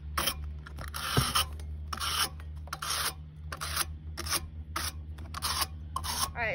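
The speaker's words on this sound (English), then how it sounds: "we're gonna scrape all of that hair off really quick" Bristles scraping hair and dirt off the coil of a rooftop AC unit, a series of rhythmic rasping strokes over a steady mechanical hum, close and fairly loud.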